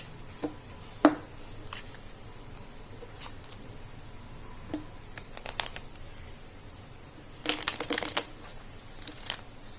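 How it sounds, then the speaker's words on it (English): Soft papery riffling and clicks, with a denser burst of flicking near the end, like cards being shuffled close by in a quiet room. "So you can shuffle the deck."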